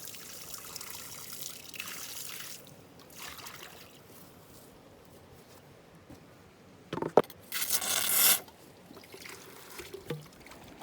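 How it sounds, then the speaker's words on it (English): Water splashes into a small pocket while gold panning at an abandoned gold mine, with faint trickling and a louder burst of pouring lasting about a second, followed by smaller splashes. "Now we'll get some water into this little pocket."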